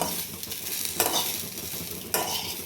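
Green chillies fry in just the oil clinging to a ladle, a constant close hiss and sizzle broken by two sharp scrapes of the spoon against the pan, with no voices.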